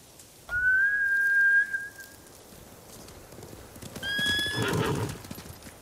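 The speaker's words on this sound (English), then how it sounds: "Bastards scared off the horses." Samurai horses in the video game Ghost of Tsushima whinny loudly and nearby, first one long neigh, then a second neigh a few seconds later with hoof clatter, under a low steady ambient rumble.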